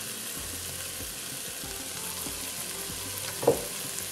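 Cumin, garlic powder, paprika and caraway seed fry in a pan for chili con carne, a steady low sizzle with soft stirring scrapes and one brief louder clink near the end.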